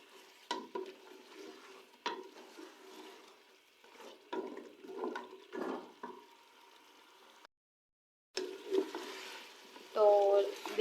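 A spoon stirring korma and masala in a cooking pot gives soft intermittent scrapes and knocks with light sizzling, close and fairly quiet, broken by a brief silence.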